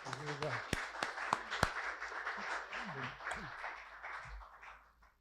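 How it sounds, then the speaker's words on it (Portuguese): Faint, diffuse applause for the poet Antonio Cicero at a lecture on his poetry, running for several seconds beneath a speaking voice. "Antônio Cícero, palmas para você."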